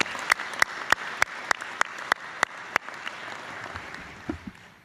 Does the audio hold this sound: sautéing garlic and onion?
no